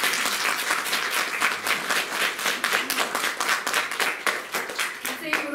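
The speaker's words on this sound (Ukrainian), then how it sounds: "Ваші оплески." Concert audience applauding at a Culture Workers' Day celebration after a performance by art school teachers, steady rapid clapping from many people filling the hall, with some voices audible near the end.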